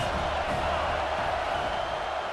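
Football stadium crowd roaring in a steady, dense wash of noise that holds loud and unbroken throughout, with no clear individual voices standing out.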